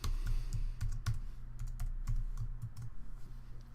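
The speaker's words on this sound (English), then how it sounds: "Once I've typed the password, I can click OK." Keys tapped on a computer keyboard while entering a password, a steady run of close, crisp clicks over a low hum with no talking.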